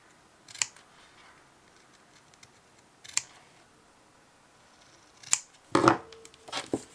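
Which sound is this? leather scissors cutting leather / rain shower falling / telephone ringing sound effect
leather scissors cutting leather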